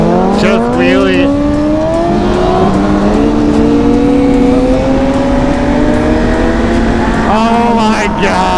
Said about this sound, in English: He's doing a fast wheelie right now, bro.